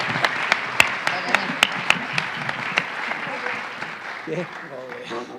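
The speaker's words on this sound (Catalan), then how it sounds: "Un aplaudiment per tots quatre, per tots cinc" An audience at a commemorative event applauds, with a steady ripple of claps and a few louder individual hits that fade as a voice begins speaking near the end.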